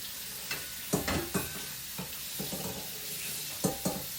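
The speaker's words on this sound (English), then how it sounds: "I just have to rinse it." A mixing bowl is rinsed under a running tap, with a steady watery hiss broken by several clunks and knocks of the bowl, close and fairly quiet.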